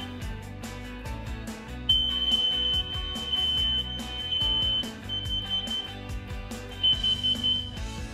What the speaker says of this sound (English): In our hallways, we have smoke alarms / carbon monoxide alarms.